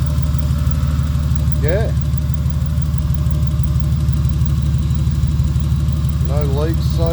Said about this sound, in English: Motors together, running, nice and quiet